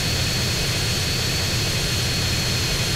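Airplane engine drones steadily in flight in the video game GTA San Andreas, a loud continuous roar with low rumble and hiss that holds unchanged throughout.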